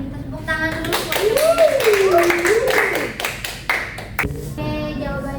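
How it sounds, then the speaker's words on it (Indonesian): Students in a classroom clap their hands together in a short burst of rhythmic claps, mixed with voices rising and falling in a sing-song way. "Tepuk tangan dulu"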